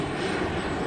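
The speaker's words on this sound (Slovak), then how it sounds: "lietajúcich strojov i rádiom riadených modelov lietadiel slovenských i zahraničných" A radio-controlled model aircraft engine drones steadily at an air show over Holíč, a loud continuous buzzing hum with no break.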